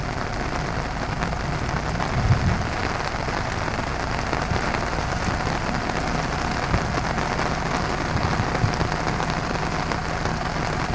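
Heavy rain pours down steadily in rural Laos, a dense constant hiss of drops hitting surfaces, loud and unbroken with occasional low rumbles beneath, no voices.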